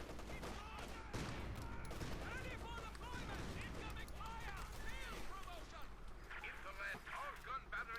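Suppressing fire in a Company of Heroes 2 match, rapid overlapping gunshots and volleys rattling continuously under a caster's running commentary.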